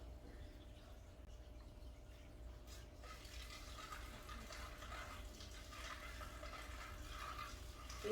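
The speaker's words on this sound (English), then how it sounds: "So we're gonna put this down here and slowly dump our water in," Water trickles and splashes softly as it is slowly poured into an aquarium tank, a faint steady pour that grows a little louder partway through.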